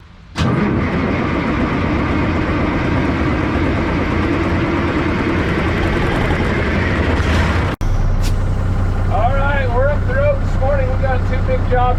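A 5-ton off-road wrecker truck idles loud and close after a sharp start, a steady low diesel rumble with a brief cut near the end, while someone talks over it.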